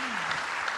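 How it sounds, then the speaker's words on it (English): A conference audience applauds its panelists steadily for under a second, dense and even clapping with a voice briefly rising at the start. "Join me to clap for our panelists."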